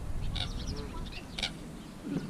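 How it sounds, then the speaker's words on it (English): Geese at Hamilton Lake give a few faint, brief honks from some distance over a low, steady outdoor background. "I saw one, and then there's another goose over here"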